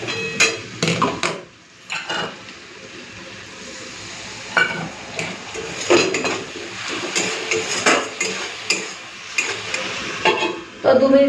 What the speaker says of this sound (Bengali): চলুন এখন মশলাটাকে একটুখানি কষে নিই, হালকা একটুখানি ভেজে নিই,